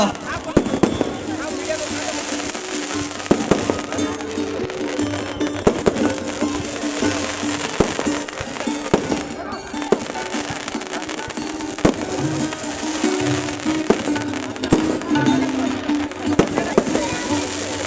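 Fireworks crackle and pop continuously with sharp bursts at an irregular pace, loud and close, set off in honor of a stage at the Karawali Festival, amid a dense background of crowd noise.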